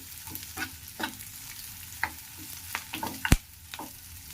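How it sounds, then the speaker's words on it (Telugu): Onions sizzle softly in a pan for tamarind rasam, with intermittent spoon clicks and scrapes of stirring and one sharp metallic clank near the end. "ఆనియన్స్ చూడండి ఇలా ఫ్రై అయినాయి కదా ఇంకా కొద్దిసేపు ఫ్రై కావాలి"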